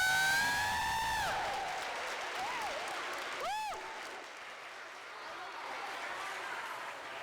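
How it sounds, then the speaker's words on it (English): Audience at a Martin Luther King Jr. celebration event claps and cheers, starting loud alongside a voice and tapering to a steadier background of applause with scattered whistles. "Let our voices join together and all give a cheer."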